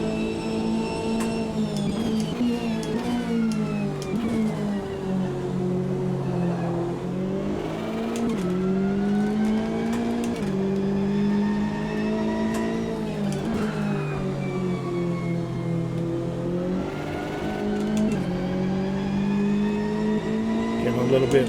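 A race car engine in Assetto Corsa Competizione howls at full throttle, its pitch rising and dipping repeatedly through gear changes and a corner, loud and continuous.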